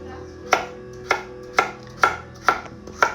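A knife chops vegetables for slaw on a new cutting board in six evenly spaced, crisp strokes, close and clear against a quiet room.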